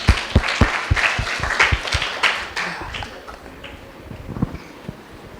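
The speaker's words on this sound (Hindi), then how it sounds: "तो इनके लिए जोरदार तालियां।" Clapping from an audience at a school Independence Day celebration on 15 August, beginning with sharp distinct claps and thinning to scattered, fading applause, fairly close and without talk over it.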